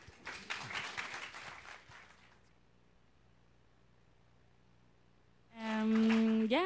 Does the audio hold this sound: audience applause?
yes